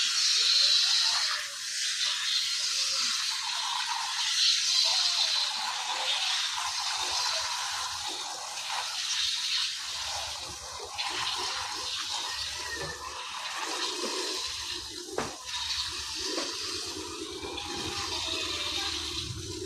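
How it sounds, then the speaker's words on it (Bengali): Milk squirting into a bucket as a cow is milked by hand, a continuous foamy rushing and hissing stream, near and fairly steady with brief dips and surges. "চাপ দেওয়া মাত্রই এক ধারছে দুধ বের হচ্ছে"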